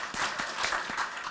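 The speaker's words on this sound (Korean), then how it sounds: "큰 박수 한번 좀 보내주시기 바랍니다." Audience applause at a Korean debate forum on internet portal fairness, a steady wash of many hands clapping that holds at an even level throughout, with no voices over it.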